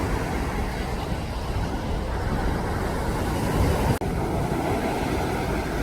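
Waves roll in at a surfing beach in Gangneung, a steady broadband wash of surf mixed with wind buffeting the microphone, continuous and fairly loud with one brief dropout.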